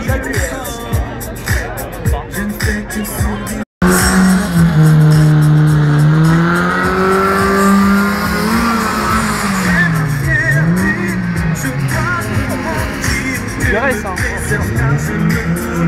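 Car performing controlled drifts at a public show in Mondeville, engine revving hard in rising and falling surges, loud and close, with crowd noise and a commentator talking over it.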